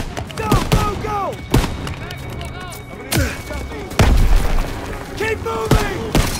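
Bursts of World War II machine gun fire crack and thump in Call of Duty WWII, with sharp repeated shots, heavy booms and shouted voices mixed through the chaotic battle.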